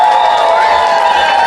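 A crowd at an ODM political rally in Busia County, Kenya, claps and cheers, a loud, dense wash of applause and voices heard close throughout.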